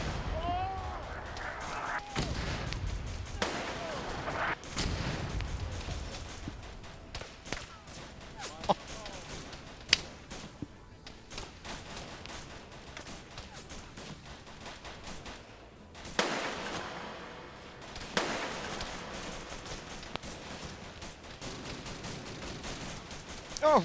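Mortar and gunfire explosions in a Vietnam war video game: scattered bursts of gunfire and sharp blasts, some near and some distant, over a steady background rumble, with voices talking throughout.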